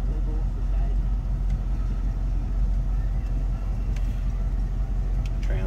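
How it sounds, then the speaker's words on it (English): 1977 GMC Sierra Classic K15 4x4 pickup engine idling, a low, steady rumble that holds even and smooth from start to finish. "smooth running engine"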